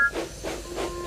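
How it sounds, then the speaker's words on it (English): A soft, steady steam hiss from a small tank engine pulling away, faint and continuous with a short whistle-like tone at the start. "And he steamed away."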